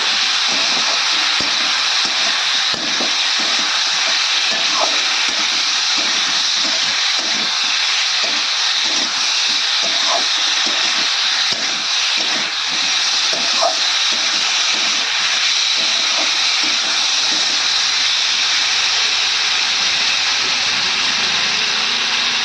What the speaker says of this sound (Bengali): ঢেকে ঢেকে কষিয়ে নেব ভালো করে